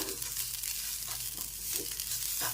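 Coconut is stirred into roasted semolina in a pan, giving a steady low sizzle with soft scraping strokes repeating every half second or so, close and moderately quiet with no talking.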